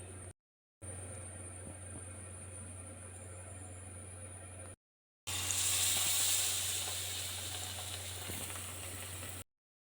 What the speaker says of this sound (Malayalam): മീഡിയം ഫ്ലെയിമിൽ വേണം നമുക്കിത് വറുത്തെടുക്കാൻ.